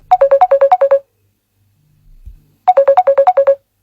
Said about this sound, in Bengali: এমন সময় দেখি ওই নম্বর থেকেই ফোন আসছে হঠাৎ করে আমায়।